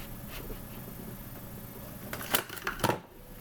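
Scissors cut paper for a paper shotgun, a few quick crisp snips and rustles near the end over a quiet, close background.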